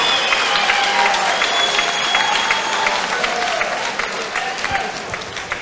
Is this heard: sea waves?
no